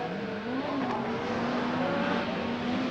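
Rallycross cars with four-wheel drive and up to 650 horsepower, 1988 British Rallycross Grand Prix, accelerating hard off the start: a dense, loud engine roar with rising revs, steady and close throughout, no talk.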